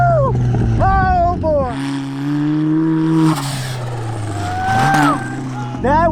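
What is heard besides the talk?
Mazda Miata driving off-road and jumping on ATV track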